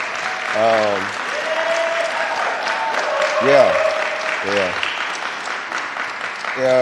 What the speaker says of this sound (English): Could you also give Shara a round of applause as well?